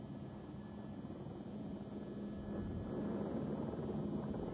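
Steady roar of a rescue helicopter hovering over the beach during firefighter lifeguard training, a constant loud drone that swells slightly toward the end, with no voices.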